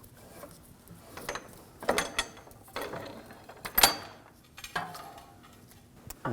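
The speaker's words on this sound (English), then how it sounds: "you can lower the pole jack" A pole jack is lowered beneath a 2006-2009 Audi S4 4.2L V8 during a rear brake job, producing intermittent metallic clanks, clicks and ratcheting knocks spaced irregularly, close and fairly crisp.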